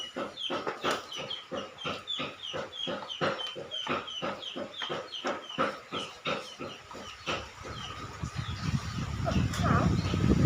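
Chickens cluck in rapid, repeated bursts close by on a stormy day, then a rougher noise swells at the end.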